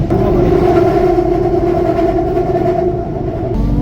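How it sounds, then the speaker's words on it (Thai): A driverless electric train in Thailand rolls past with a loud, steady rumble and a sustained humming drone, close and continuous, with no voices. "รถไฟฟ้าไม่มีคนขับ"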